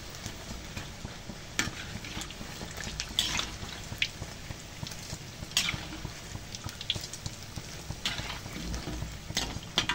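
Anchovy rice fritters fry in hot oil with a steady, moderately quiet sizzle and occasional crackles and stirring scrapes, heard alone without talk.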